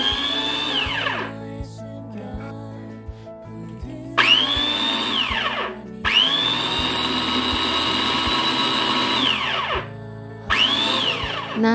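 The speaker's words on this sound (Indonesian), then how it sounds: "jadi tinggal ditekan sekali terus langsung ngeblender kayak gini, dan suaranya seperti ini" Philips Avent 2-in-1 steamer blender pureeing steamed rice and vegetables, running in several loud whining bursts that spin up and wind down, with quieter gaps of motor clicking between them and no talking.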